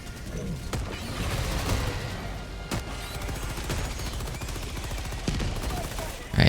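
Sustained automatic gunfire in the video game Helldivers 2, loud rapid shots running throughout with a few sharper heavy bangs standing out, under occasional talk.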